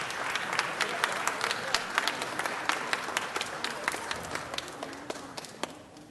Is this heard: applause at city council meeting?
yes